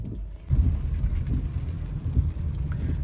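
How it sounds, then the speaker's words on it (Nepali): Heavy rain pouring down outdoors, a dense steady rumbling wash that starts abruptly and continues loud and constant with no talking. "तपाईहरु देख्न सक्नुहुन्छ कि यस्तो झरी परेको छ"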